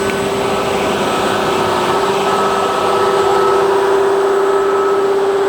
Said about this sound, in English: the pump's been working really well